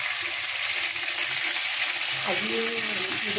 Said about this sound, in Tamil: இப்போ வந்து அது எண்ணெய் சூடாயாச்சு. கொழிவாலை மீனை வந்து நம்ம ஒன்று ஒன்றா போடுறோம்.